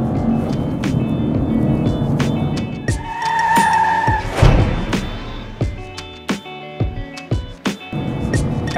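Laurel green Aston Martin V8 Vantage GT driven briskly on a public road, the V8 engine revving and rasping close by, then a series of sharp pops and crackles on the overrun as it backs off.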